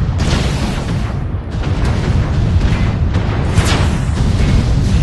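Missile explosions in the MechWarrior video game, a dense roar of loud booms and bursts rolling continuously at close range.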